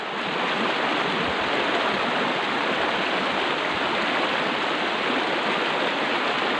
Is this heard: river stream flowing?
yes